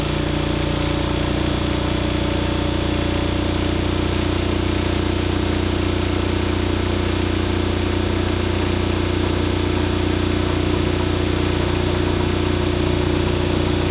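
A generator engine running steadily at about 1800 RPM while being synced to a bus, a constant close-up droning hum with deep mechanical vibration and no change throughout.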